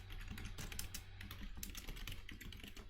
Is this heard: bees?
no